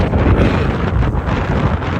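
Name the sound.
wind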